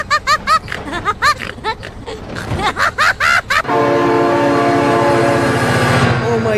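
A train horn blares in a steady sustained tone as a train passes close by, following a stretch of rhythmic, excited voices.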